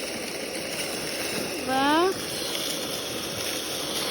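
A garden water fountain with a small waterfall runs as a continuous, fairly faint wash of falling water, while a voice speaks briefly partway through.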